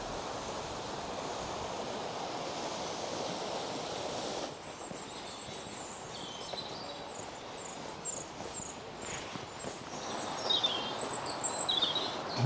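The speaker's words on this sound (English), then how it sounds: "today, the river is going to provide most of that soundtrack." Steady broadband rushing of a river flowing in the Lake District, constant and fairly loud throughout, with birdsong chirping faintly above it in the second half.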